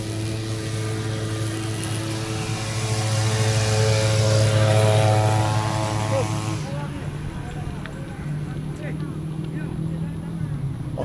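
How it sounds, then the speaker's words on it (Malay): Airliner engine roar heard from outside the plane at cruising altitude, a loud steady drone with tonal hum that swells midway and then drops to a duller rumble. "Di luar kapal terbang, sekejap ya bising"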